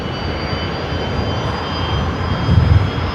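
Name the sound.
Rolls-Royce Tay jet engines starting up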